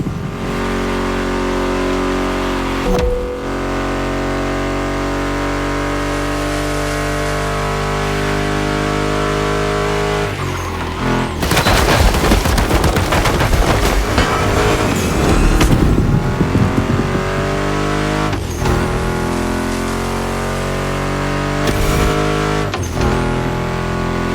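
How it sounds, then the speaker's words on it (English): Mustang GT and other muscle car engines in the racing game The Crew Motorfest rumble and rev, surging into a loud burst of acceleration with tire squeal midway, then settling back to a steady drone. "Meshes well with the sound of the engines, you feel me?"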